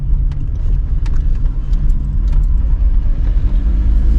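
Interior drone of a very basic Citroën BX on the move, a loud, steady low rumble with road noise and small rattles throughout, no talking.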